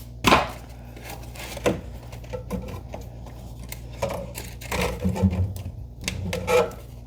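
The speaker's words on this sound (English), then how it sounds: "I need some scissors for these zip ties or something." Scissors snip through zip ties while a Prusa Core One L 3D printer is unboxed, giving a few sharp, scattered clicks and cuts spaced seconds apart, close by, with faint handling noise between them.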